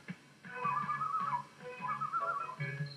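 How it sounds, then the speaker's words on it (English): A low human whistle plays a short wavering tune in two phrases, close and clear against near silence, with faint soft thumps underneath. "He gave a low whistle."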